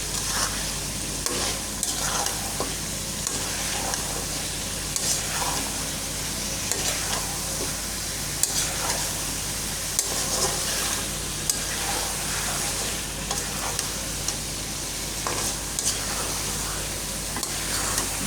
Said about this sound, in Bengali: গরুর মাংসটা যত কষাবে ততই নরম হবে আর খেতেও সুস্বাদু হবে। আমি একেবারে সুন্দর করে কষাচ্ছি।